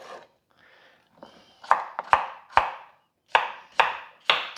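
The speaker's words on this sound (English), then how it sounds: "I'm going to chop this up." Knife chopping cucumber on a board for gazpacho, about seven or eight sharp, close chops in an uneven rhythm, a few soft taps first, then firmer strokes, with no voices.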